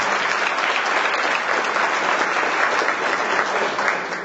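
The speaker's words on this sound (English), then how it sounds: "Let's give them a round of applause." An audience at a Danbury NAACP annual gala gives a dense, sustained round of applause that stays loud and steady throughout, with no talking.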